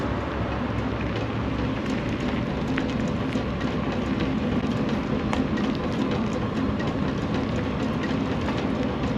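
Tesla Model Y Juniper wheel covers making a steady clickety-clack noise while driving, a continuous rhythmic rattle over constant road and tire rumble throughout, with no talking.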